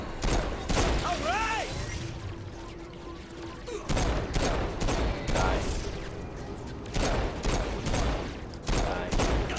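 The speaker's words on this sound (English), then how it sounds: "Alright, more gun fights." Gunfight in Saints Row IV, with repeated bursts of gunfire crackling in clusters throughout, near and loud, with a brief voice and game sounds in between.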